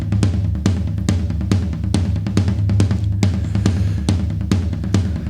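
Tom rolls on a standard Addictive Drums virtual drum kit, dense rapid hits in a steady driving pattern, loud and close with no voices.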